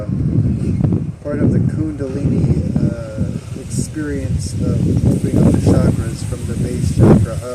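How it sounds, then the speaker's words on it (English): A person talks steadily outdoors while gusty wind buffets the microphone with a constant low rumble. "It's so windy out here."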